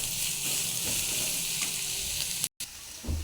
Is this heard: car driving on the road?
no